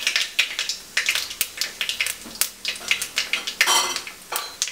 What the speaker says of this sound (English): And 1 teaspoon of mustard seeds. Let it splutter.